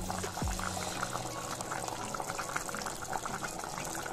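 Chicken curry with tomato bubbles in a pressure cooker, a soft, steady boiling burble heard close up with no voices.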